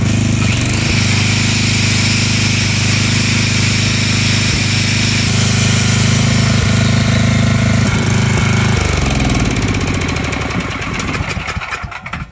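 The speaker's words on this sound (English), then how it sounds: "So I got two grinders set up here. The switches are on." A small generator engine drones steadily at a constant pitch, loud and close, powering two grinders under load, then bogs down and sputters toward the end.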